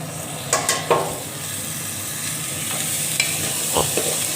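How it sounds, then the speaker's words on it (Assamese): Soaked rice being fried alone in a pan for mutton pulao gives a soft, steady sizzle with a few sharp scrapes and clinks of stirring near the start and end. "অকল চাউলখিনি ভাজিব লাগিব"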